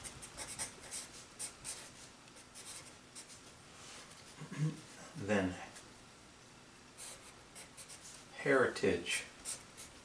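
A pencil scratches and scrapes across paper in soft, uneven strokes throughout, close and quiet, while a person speaks briefly over the drawing.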